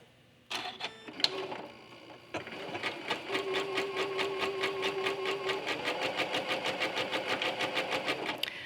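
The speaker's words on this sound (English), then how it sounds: "Just simply start sewing, keeping that batting nice and flat. I like to put my hands one on each side and gently guide it through my machine." A domestic sewing machine stitches two pieces of quilt batting scraps together, its needle chattering in a fast, even rapid-fire rhythm after a few start-up clunks, close and steady with a faint whine, no voices.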